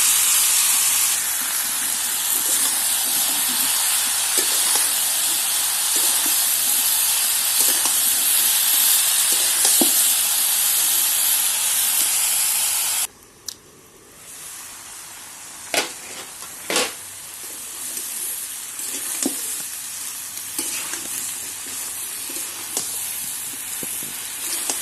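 Vegetables tipped into spice paste fried in hot oil, a loud steady hiss and sizzle that drops sharply partway through, then quieter crackling with occasional pops and clatters.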